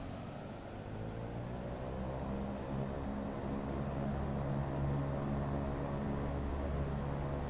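Twin turboprop engines of an Embraer EMB-110 Bandeirante in a flight simulator drone steadily through the takeoff roll, a loud, even roar with a high whine that slowly rises in pitch, with no talking.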